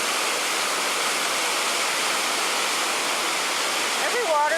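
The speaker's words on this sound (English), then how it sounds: "it just goes down in all these gentle steps and it falls, falls, falls." A waterfall pours down a series of gentle rock steps, a constant loud broadband rush of falling water filling the scene without pause.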